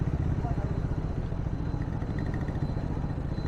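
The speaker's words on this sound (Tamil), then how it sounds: "ஏறுதா வண்டி?" A motorcycle or small vehicle engine labours steadily uphill on the road to Vellore Theerthagiri Murugan temple, a dense, continuous low rumble with some clatter, close and loud throughout.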